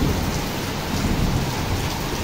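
Steady heavy rain pours down close by as a dense, unbroken hiss with no voices.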